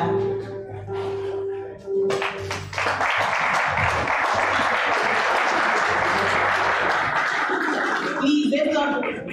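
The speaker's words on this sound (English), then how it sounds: "Please, let's not stop clapping." A church congregation breaks into clapping after a voice speaks over music, the applause building into a loud, steady wash of hands that carries on for several seconds.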